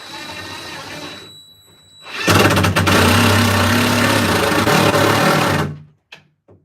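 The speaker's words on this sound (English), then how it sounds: "And drill" A power drill whirs loudly and steadily for about three seconds, then stops abruptly, after a brief quieter hum.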